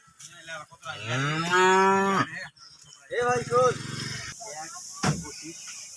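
A bull at an old cattle farm in Dhaka, due for loading onto a truck for delivery, gives two loud, drawn-out moos close by, with people talking around it.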